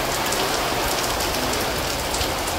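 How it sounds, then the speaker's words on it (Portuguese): Heavy rain pouring down at an outdoor shopping mall, a loud, unbroken roar of drops hitting hard surfaces, dense and close throughout. "Ó, muita chuva, muita chuva."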